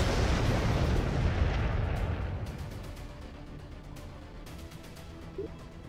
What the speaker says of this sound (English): That was a bomber, and that was a nuke.